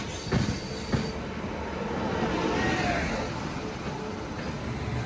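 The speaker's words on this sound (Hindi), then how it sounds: "ये मेरे ख्याल से पश्चिम एक्सप्रेस है।" Paschim Express passenger train rolling past an Indian railway station, loud rumbling wheels and clattering carriages with a couple of sharp rail clanks early on and squealing wheels, continuous and close throughout.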